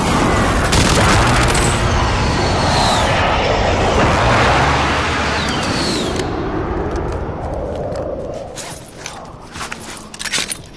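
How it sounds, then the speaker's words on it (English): Enemy precision airstrike in a shooter game: a loud, dense roar of blasts and rumble with aircraft-like sweeps, holding for several seconds before thinning into scattered crackling impacts and quieter debris. "Enemy precision airstrike."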